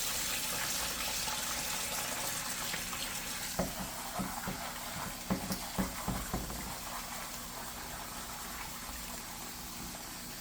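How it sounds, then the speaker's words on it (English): Water runs steadily from a tap, a continuous broadband hiss with a few splashing clunks midway, like a pot filling up. "you're going to fill this up and wash them"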